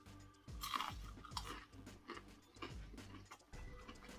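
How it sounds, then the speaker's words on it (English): Crunchy KFC onion rings bitten and chewed close to the mic, a run of loud crisp crunches repeating in an uneven rhythm with brief pauses between bites. "this one's going to have a lot of crunch for sure"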